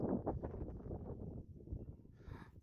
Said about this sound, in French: Ah, il y a un peu de vent, hein.